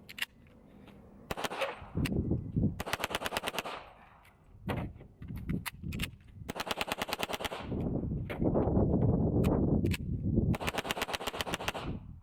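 Hi-Point JCP .40 pistol fired in rapid strings of sharp, loud shots outdoors during a 1000-round endurance test, bursts of closely spaced cracks broken by short pauses and ringing echoes.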